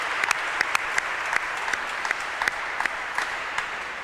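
Audience applause at the opening evening of a national liturgical week, steady clapping filling the hall throughout with a few sharper individual claps standing out, no talk over it.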